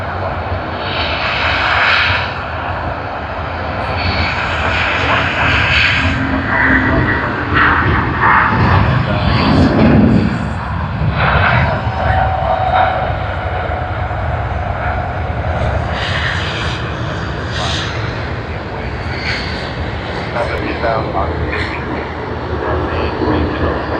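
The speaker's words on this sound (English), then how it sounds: "That was China Southern to Guangzhou." A China Southern jet airliner departs Sydney Airport for Guangzhou, its engines roaring loudly and steadily throughout, swelling and fading slightly, with intermittent voices talking over it.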